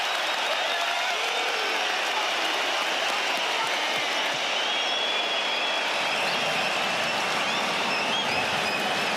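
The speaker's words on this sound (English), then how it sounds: "Have you ever heard a crowd like this?" Arena crowd roaring through the closing seconds of a UFC 284 title fight between Islam Makhachev and Alex Volkanovski, a loud unbroken wall of cheering with distant whistles and shouts.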